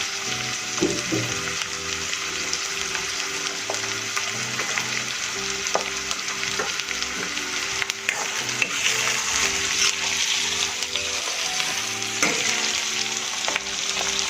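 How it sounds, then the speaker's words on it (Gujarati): Onions sizzle and fry steadily in a hot pan for chhole, with scraping and stirring clinks now and then under the constant hiss, and no voices. "ડુંગળીને આપણે થોડીવાર માટે હલાવીશું."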